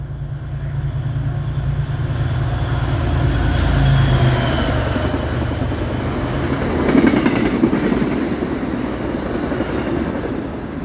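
An MBTA commuter train passes on the line toward Boston, a loud continuous rumble that swells mid-clip with some squealing wheel noise, heard outdoors with no talk.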